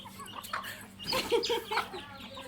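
A chicken clucks a few times in quick succession while being fed among chicks in a yard, the calls standing out mid-clip over a low, steady background.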